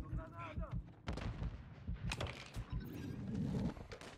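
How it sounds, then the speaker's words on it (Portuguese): Bursts of gunfire in Call of Duty: Modern Warfare III, sharp repeated shots at a modest level, mixed with game sounds and quiet voices. "Tô levando tiro aqui."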